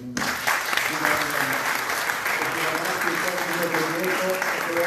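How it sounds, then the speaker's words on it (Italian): A festival audience at Pordenonelegge 2021 applauds the staff in a dense, steady wash of clapping from a crowd in a hall, with a voice faintly audible beneath it. "Quindi un applauso"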